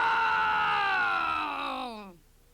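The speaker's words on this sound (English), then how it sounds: "The Papa Bear let out a low, rumbling growl that shook all three beds." A bear growls in one long, loud, sustained groaning roar that gradually falls in pitch before cutting off, with no other sounds around it.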